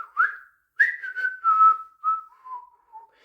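A Mip robot toy lets out a short electronic whistle: a rising chirp, a pause, then a gliding tune that slowly falls in pitch, clear and close with no talk.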